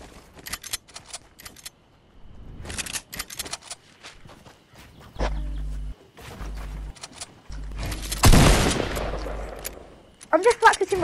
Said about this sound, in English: I'm just practicing my shooting.